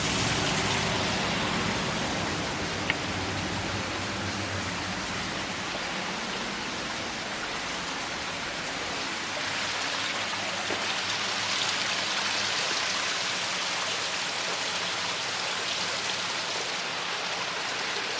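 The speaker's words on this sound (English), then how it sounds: "sound of falling water, the waterfall." Steady roar of a waterfall along a trail, falling water pouring continuously at close range as a dense, unbroken wash of noise with no voices over it.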